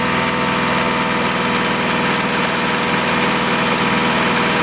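A car engine runs steadily at about 2500 RPM during a catalytic converter test, a continuous loud, even mechanical hum with a fine vibrating texture and no talk.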